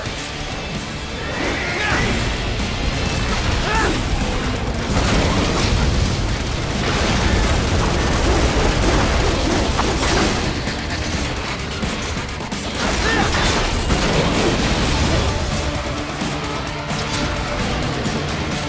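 Loud, continuous video game combat with repeated crashing explosions and booms from missiles, dense and sustained throughout with mechanical clatter between blasts.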